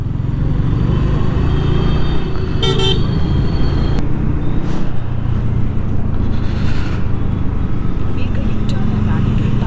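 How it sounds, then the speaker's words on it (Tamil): Heavy road traffic during school hours, with car horns tooting repeatedly over a loud, steady engine rumble close by; people talk over the din. "செம்ம டிராஃபிக்காக இருக்குது"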